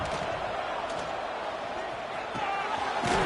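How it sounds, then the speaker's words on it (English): A stadium crowd at a football game gives a steady, dense roar of cheering with a few sharper swells, heard with some commentary over it. "Listen to the crowd energy here in the early going."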